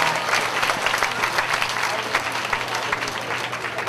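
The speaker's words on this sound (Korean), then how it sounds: "다시 한번 우리 홍장민 목사님께 감사의 박수" A church youth festival audience claps steadily in thanks for the pastor, a full, even round of applause filling the hall for a few seconds without speech.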